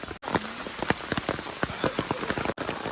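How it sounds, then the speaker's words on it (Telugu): Steady rain falling in Mahabaleshwar: a dense, close patter of drops striking surfaces, with sharper individual splats scattered throughout and no voices. "వర్షం మాత్రం పెరుగుతూనే ఉంది."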